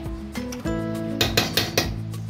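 A metal lid is set onto a cooking pot of basanti pulao, giving a few close clinks and knocks against steady tonal music in the background.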